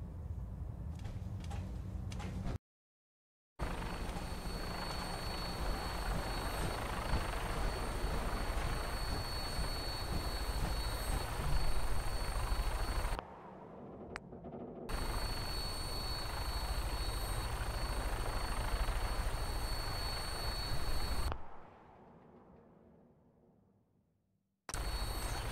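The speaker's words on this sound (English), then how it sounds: "Kells has a vertibird on standby, waiting to drop us off on the roof of the Mass Fusion Tower" Vertibird aircraft in Fallout 4 in flight, a steady loud rotor and engine roar that runs continuously, broken by a few short drops to silence and fading away near the end.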